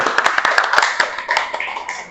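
Classroom applause during an Islamic religious education lesson, a brief round of scattered hand claps from students, fairly close and sharp with uneven rhythm, with some voices mixed in.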